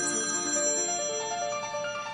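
A mobile phone lying on a table rings with a steady, bright electronic chiming tone that sustains clearly and alone for a couple of seconds.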